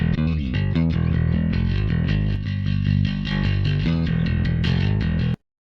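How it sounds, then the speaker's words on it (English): A bass line runs through the Owl Control compressor plugin, its distortion giving a thick, gritty, saturated tone that holds steady and loud within a dense mix before cutting off abruptly. "I really liked that distortion here on bass."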